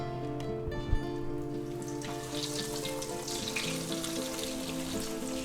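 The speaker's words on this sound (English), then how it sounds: "we're going to take our breaded steaks that we have here, the Milanesa steaks, and we're going to put them right in there" Breaded beef Milanesa steaks frying in hot oil, a steady close sizzle and crackle running the whole time beneath a constant low tonal hum, with a brief bump where a cutlet is laid in.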